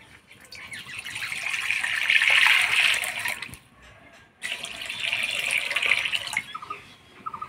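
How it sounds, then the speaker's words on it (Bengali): Water running from a tap into a cooking pot for lentil dal, a loud steady hissing pour that stops briefly midway and then resumes, with no talk. "এবার ডালের জন্য জল বসায় দিব"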